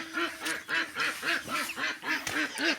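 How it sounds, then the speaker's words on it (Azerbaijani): A duck quacks repeatedly in close, loud, evenly spaced calls, about eight or nine harsh quacks in quick rhythmic succession. "Bakın bu ördək cütdədir, bir dəqiqə cütə gəlib."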